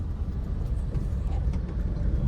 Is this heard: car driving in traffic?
yes